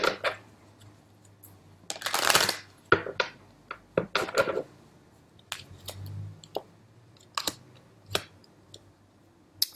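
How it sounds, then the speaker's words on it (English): Tarot cards being drawn and handled on a table: quiet, scattered flicks, taps and brief rustles come in irregular bursts, close by, with no talking. "I'm going to take a couple of cards here"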